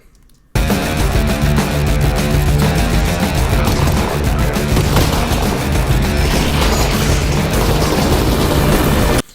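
Manhack being blown up in the VR game Half-Life: Alyx, heard as a dense, loud barrage of booms, crashes and popping blasts that runs continuously for about nine seconds.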